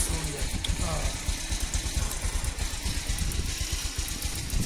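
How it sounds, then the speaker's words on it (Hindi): Two motorbikes idle side by side outdoors in Karnah, Kashmir, giving a steady low engine rumble with a faint pulsing beat while people talk over it. "अभी हमने स्टार्ट छोड़ी है दोनों बाइक्स"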